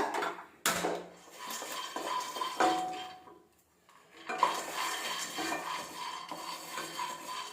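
Around 150 grams of peanuts dry roasting in a pan, scraped and stirred with a utensil in uneven bursts of clinking and rattling, with a short quiet gap midway.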